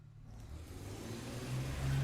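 A car engine in a video game hums low and rises gradually in level as it revs, a muffled mid-distance drone with no speech.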